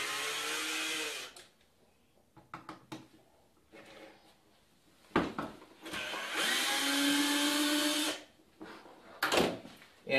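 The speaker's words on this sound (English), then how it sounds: "what we're going to do is just back out the other two screws" A power driver backs screws out of ozone generator cells: several short, loud whirring bursts separated by quiet pauses, close up.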